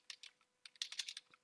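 Clicky keystrokes on an English-layout computer keyboard, close and fairly quiet, coming in quick bursts with short pauses between them and no talking.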